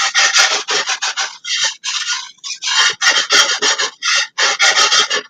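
Flour is stirred in a pan over medium heat, a spoon scraping the bottom in quick repeated rasping strokes, close and clear with short pauses between bursts.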